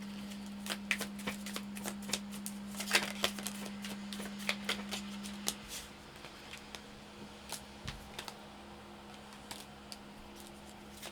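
Love tarot cards being shuffled, a quiet run of soft papery flicks and riffles in an irregular rhythm over a steady low hum, with no talking.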